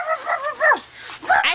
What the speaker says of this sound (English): We got a dog.